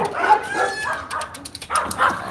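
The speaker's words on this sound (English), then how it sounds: "So the dogs going crazy." Dogs bark and yip excitedly in quick, overlapping bursts, fairly close and loud, with whining tones between barks at an outdoor spot with a pool and big cats nearby.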